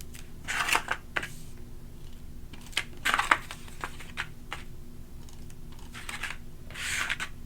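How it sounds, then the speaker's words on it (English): Adhesive tape is pulled and pressed onto small cardboard tabs of a handmade book box, with several short crackling rips and taps up close, spaced out over a quiet background. "I'm going to add some tape to these little baby tabs here."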